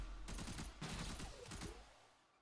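Rapid bursts of gunfire from a gun in the video game Warframe, three dense, loud volleys of automatic shots in quick succession, fading out at the end.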